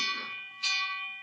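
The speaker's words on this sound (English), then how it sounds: "that's the fire alarm bell, remember?" A fire alarm bell rings steadily with sustained metallic tones, fading slightly then striking again louder partway through, heard alone and close in a newspaper-office setting.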